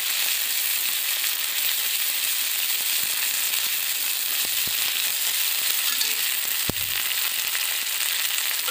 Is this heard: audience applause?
no